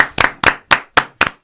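A handful of sharp, close claps in a steady rhythm, six or seven distinct slaps over a second and a half, offered in thanks during a small podcast recording.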